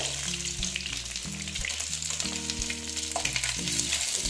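Chital fish (clown knifefish) pieces frying in hot oil for a Bengali kalia, a steady dense sizzle with crackling throughout, close and fairly loud, with no talking.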